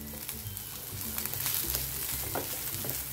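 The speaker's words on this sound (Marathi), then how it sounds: "कांदा आता खरपूस परतत आला आहे, त्यात मी हे चार पाच कढीपत्त्याची पानं अशी बारीक चिरून टाकली आहे" Browned chopped onion and finely cut curry leaves frying in a pan for beetroot cutlets: a dense, even hiss of oil close by with a low background hum and faint stirring clicks, no voices.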